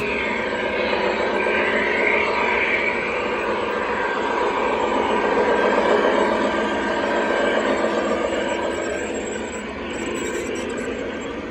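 Loud, sustained mechanical roar of a train rumbling past on tracks above a campground, steady throughout and easing slightly near the end, with no talking.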